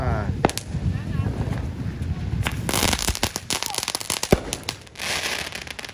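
Repeated sharp Fourth of July fireworks blasts and crackles, some close and loud, bursting irregularly over a steady outdoor background with faint voices.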